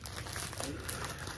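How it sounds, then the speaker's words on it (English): Plastic packaging crinkles as it is opened with small scissors, a steady close-up rustle that runs through the whole moment with no talking. "right now we're gonna open said package with said baby scissors"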